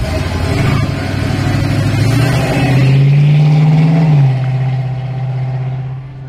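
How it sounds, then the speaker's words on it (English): A 1971 Ford Mustang Mach 1 launches off the start line at a hill climb, its loud close engine revving hard, holding a rising note and then fading as the car pulls away. "he's driving a 1971 Ford Mustang Mach 1 in a beautiful silvery hunter green"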